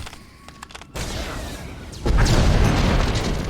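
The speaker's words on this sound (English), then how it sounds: "I was a bit too close to that explosion." A close, heavy explosion in Star Wars: The Old Republic booms in about two seconds in and keeps rumbling loudly, following a stretch of quieter battle noise.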